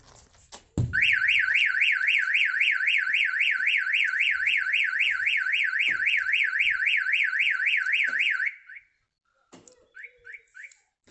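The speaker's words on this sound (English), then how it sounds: "So now when anyone applies a force to the vehicle, opens the doors, the alarm is going to go trigger." A Starline E96v2 alarm on a Toyota Proace van is set off by a hard knock and sounds a loud, fast warbling siren for about eight seconds, then a few short chirps.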